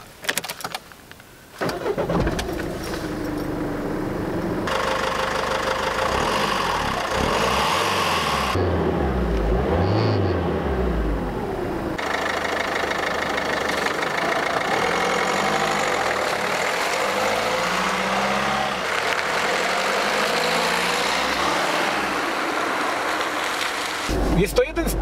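A Citroën Berlingo 1.6 HDI diesel pulls away, its engine drone rising and shifting in pitch as it accelerates, with cabin rumble and road noise continuing throughout. Someone talks briefly near the start.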